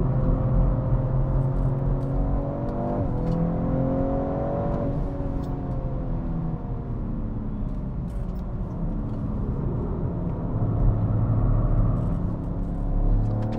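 A 2025 Alpina B3 GT launches from the brake and accelerates hard, its engine note climbing through rising revs with a brief shift dip, a loud, close, steady roar from inside the car.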